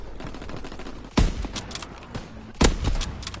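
Two sharp sniper rifle shots ring out in a WW2 video game, about a second and a half apart, each a loud crack with a brief tail over a steady background of distant battle noise.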